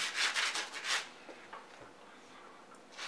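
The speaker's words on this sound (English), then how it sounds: "I'm using the stiff brush for the bottom" A stiff brush scrubs the rubber sole of a Yeezy sneaker in a few quick, close rasping strokes, then a faint quieter stretch of light brushing, with no talking.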